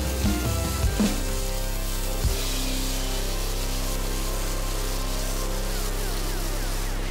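Beef fries in a pan with a steady, loud sizzle, and a few stirring scrapes come early on. The sizzle runs continuously with no speech.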